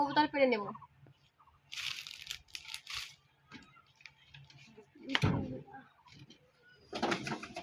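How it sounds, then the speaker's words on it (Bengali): Pigeons being caught coo and flutter in short, scattered bursts close by, with a brief voice at the start and handling noises between the calls. "এই দেখুন আমি দুইটা কবুতর পেরে নিচ্ছি"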